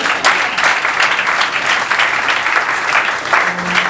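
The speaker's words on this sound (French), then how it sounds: "Applaudissez." Wedding guests clap during a civil marriage ceremony, a loud, continuous round of applause from a gathered crowd with fluttering peaks, no speech over it.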